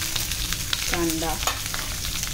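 Onions with green chillies and curry leaves fry in a pan for a Malvani prawn dish, giving a steady, close sizzle with a brief scraping stir partway through.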